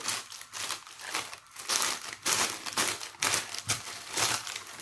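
Loud, continuous crinkling of damaged plastic film on a diamond-art canvas, crackling and rustling in irregular bursts with no voices.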